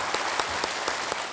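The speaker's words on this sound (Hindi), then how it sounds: "तालियों के साथ इनका अभिनंदन और स्वागत" A brief, steady burst of studio audience applause welcoming a contestant on Kaun Banega Crorepati, dense clapping with a few louder claps standing out.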